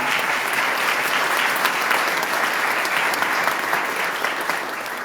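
A large audience applauds at a clerk of courts investiture ceremony, dense, even clapping sustained for several seconds before starting to taper off at the end.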